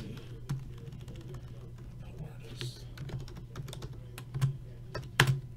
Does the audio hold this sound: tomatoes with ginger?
no